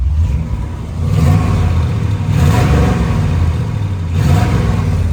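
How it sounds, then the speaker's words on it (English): A 1970 Chevrolet Monte Carlo engine idles with a loud, close rumble and rises in three short revs, each swelling and settling back to idle, with no voices. "There's a little rev for you."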